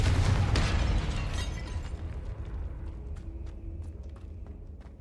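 A Confringo spell explodes in the Hogwarts Legacy video game with a loud, deep blast at the start that rumbles and fades over several seconds, joined by faint crackling debris and no speech.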